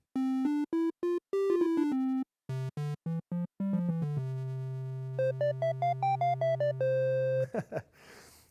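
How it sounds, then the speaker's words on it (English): A clean synth tone with a soft, mellow timbre plays short melodic phrases of separate notes, then one long held low note, and finally a burst of noise. "Right underneath that, we have a triangle wave."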